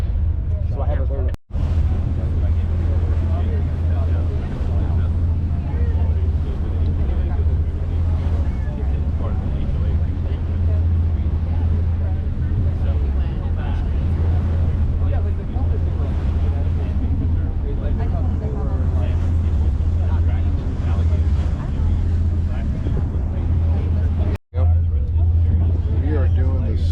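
A slow excursion boat in Cozumel heads back to shore, its steady engine drone and water rush holding loud and constant for the whole stretch, with wind buffeting the microphone.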